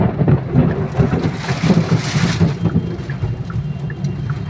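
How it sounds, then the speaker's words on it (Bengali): Heavy rain pours down in a thunderstorm during a drive, a loud dense roar with low rumbling thunder swelling through the middle, no voices. "মারাত্মক বৃষ্টি হচ্ছে।"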